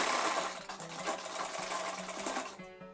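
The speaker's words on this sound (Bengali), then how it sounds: "এরকমভাবে আমি পুরোটাকে সেলাই করে নিচ্ছি" A sewing machine stitches a prince cut blouse, a close rapid mechanical whirring clatter running continuously before slowing near the end.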